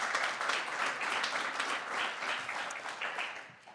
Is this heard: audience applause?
yes